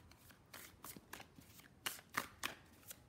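Tarot cards are shuffled in a quiet room, giving a string of soft riffling flicks and a few sharper snaps near the end, with no talking.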